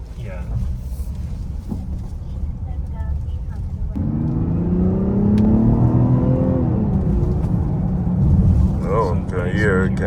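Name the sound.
Mazda car engine while driving on a rough road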